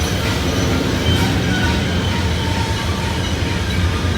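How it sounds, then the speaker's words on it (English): Heavy loaded coal train rolling downhill around Horseshoe Curve, with a dense, steady roar of wheels and railcars close by, continuous and loud throughout. "This is one heavy train going down a long hill."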